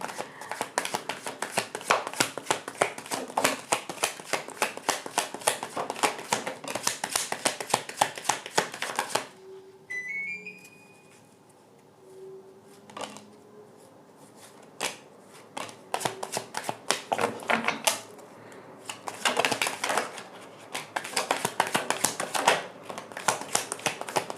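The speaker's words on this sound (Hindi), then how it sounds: "One last shuffle." Tarot cards shuffled for a candle wax reading, long bursts of rapid riffling and flicking, close and crisp, broken by a quieter pause with faint chime-like tones before shuffling resumes.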